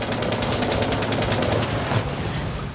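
Rapid automatic gunfire from a tank in the War Thunder video game, where a turreted 47mm armament supports a hull-mounted 75mm cannon. A fast, evenly spaced string of loud, close shots runs for about two seconds, then trails off.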